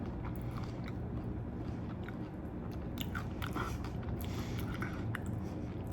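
Close, steady chewing of an orange carrot jello salad set in a pecan pie mold, with soft wet squishes and occasional crunches from shredded carrot running continuously without a break.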